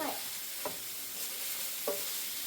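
Jackfruit pieces stir-fried in a home kitchen pan give a steady soft sizzle, with a few light scrapes from the stirring spoon.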